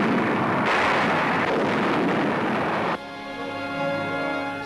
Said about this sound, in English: there is a final burst of fire from the retreating enemy. American artillery answers back.